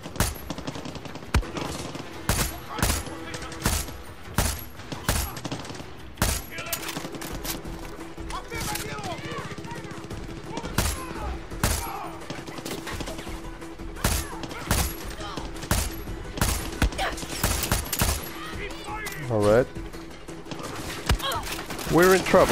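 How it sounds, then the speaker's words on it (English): Rapid video game gunfire, bursts of automatic shots and single cracks repeating densely throughout, loud and close, with voices talking over the shooting. "Someone is firing."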